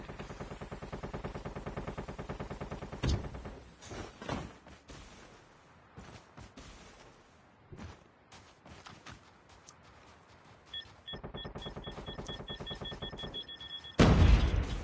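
Rapid automatic gunfire bursts in a Call of Duty match, loud near bursts broken by gaps and scattered shots, with a sustained stretch of firing returning toward the end.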